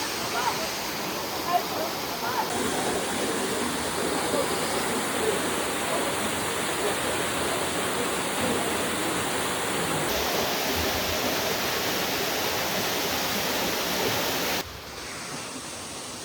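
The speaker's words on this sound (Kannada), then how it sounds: "ಫಾರೆಸ್ಟ್ಗಳ ಮಧ್ಯೆ ನೀರು ಬೀಳ್ತಾ ಇರೋದು" A steady, loud rush of a forest waterfall in Meghalaya fills the whole stretch, dense and unbroken, dropping slightly quieter near the end.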